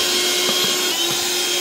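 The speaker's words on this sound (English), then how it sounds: "Then all you gotta do is just come by with the vacuum." A vacuum cleaner sucks dead flies off a windowsill, a steady close-up motor whine with faint scraping and rattling as debris is pulled into the nozzle.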